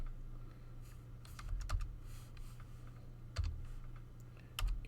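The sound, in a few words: typing coordinates on a computer keyboard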